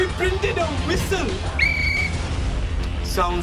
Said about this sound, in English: We printed a whistle.